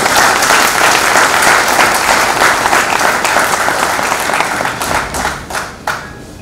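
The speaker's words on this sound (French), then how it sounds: "Nous devons l'applaudir." Sustained audience applause during a speech on the Goma and Bukavu killings, loud and dense at first, then thinning into scattered claps toward the end, with no speech over it.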